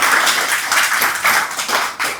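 Audience applause at the close of an evening community talk event, a steady wash of many hands clapping at medium distance, with no talk over it.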